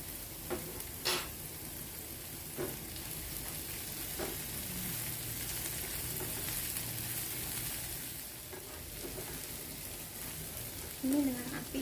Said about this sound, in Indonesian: Ini ditumis sampai air-airnya itu tuh hilang, air bawang, cabai